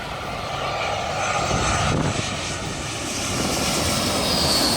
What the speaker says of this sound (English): It seems like you have a plane coming in about every 5 minutes, and about every half hour you have one of these big guys.